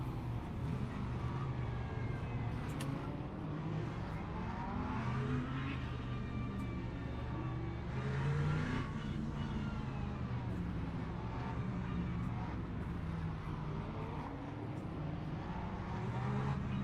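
Engine of a Lexus race car in the sim racing game Le Mans Ultimate at Le Mans, a steady droning roar with shifting pitch from cars running close together, continuous throughout with no talk.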